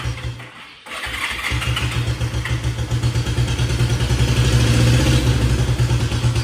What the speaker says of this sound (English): I really love the sound on this bike.